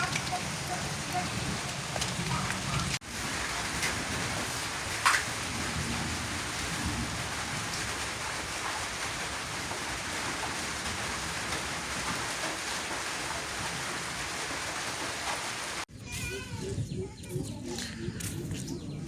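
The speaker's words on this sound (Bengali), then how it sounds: "বৃষ্টি হইতেইছে, টিপ টিপ করে বৃষ্টি পড়তেইছে।" Light drizzle falling outdoors under a sky thick with dark clouds in a village, a steady soft patter that fills the scene, broken by a couple of sharp knocks and a brief change near the end.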